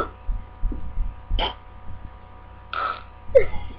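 A few short, throaty burps sound close up between pauses, with faint low hum underneath and a brief voice at the end.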